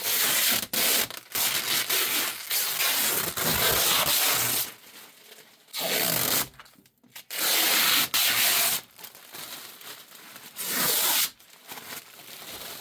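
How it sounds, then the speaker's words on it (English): Protective film peeled off a Monport laser engraver makes long, loud tearing and ripping strokes, close by, broken by short quiet gaps as each pull stops and starts again. "Let's peel off this film."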